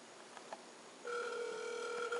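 Ringback tone on an outgoing telephone call starts partway through, a steady two-pitch purr heard close and clean over quiet room noise, with no talking.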